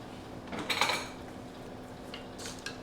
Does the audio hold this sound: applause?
no